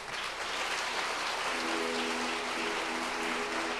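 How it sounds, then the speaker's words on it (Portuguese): Sustained dense applause fills a church-style gathering as a man named Marcos is honored, loud and continuous with a low hum emerging midway. "vamos aplaudir esse moço"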